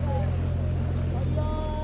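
A tractor fords a flowing river stream, its engine droning loud and steady beneath continuous rushing, splashing water for the whole stretch.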